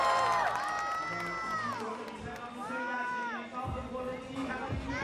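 Spectators at the FISE Shanghai 2024 BMX freestyle park World Cup women's final cheer and whoop for a rider, a moderate crowd roar with scattered shouts under nearby commentary-like voices.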